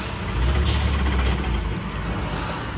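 Indian army trucks rumble past on a Delhi road, a loud, close, continuous engine roar with a short hiss like an air brake early on.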